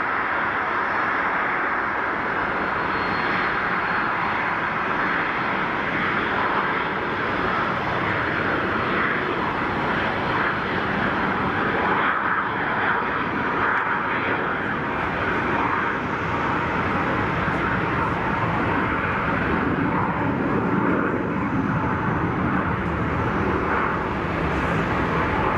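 A Pilatus PC-24 business jet makes an intersection departure at Geneva Airport, its engine roar steady and loud throughout as it powers down the runway, with no voices over it.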